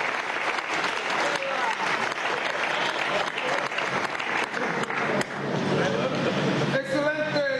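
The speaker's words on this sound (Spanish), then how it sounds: "Por favor, aplaudan para Bill, el senador Bill Perkins." Audience applause at a summit of Afro-descendant leaders in Harlem, a sustained crowd clapping that runs throughout, loud and close, with a voice speaking over the final seconds as the clapping continues beneath.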